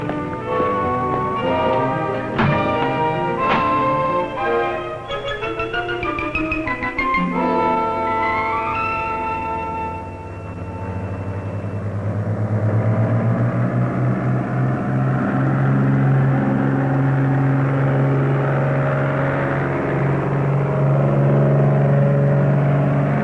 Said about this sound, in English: On takeoff, we began our climb at a best rate of climb speed.